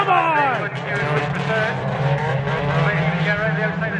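Banger racing cars roar around a raceway track, with engines whining and rising in pitch close by, a loud, continuous mix of several cars under a commentator's voice.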